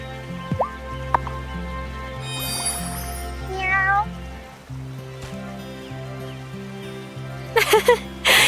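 A cat meows in the farming life-sim video game Wylde Flowers, a few short meows standing out over soft looping background music and ambient water-like sounds.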